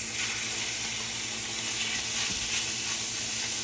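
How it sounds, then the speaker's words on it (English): Steak hits a hot pan and sizzles continuously, a loud, close, steady frying hiss with no talking. "Ooh, it actually sizzled."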